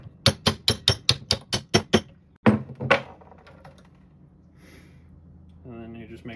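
A hammer tapping a socket to drive a gear set into a headlight motor held in a vise: about eight sharp, evenly spaced metallic taps, then a few heavier strikes, followed by quiet and a voice speaking at the end.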